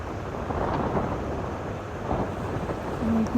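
Steady heavy rain hisses at night over a low rumble of thunder, with wind buffeting the microphone throughout.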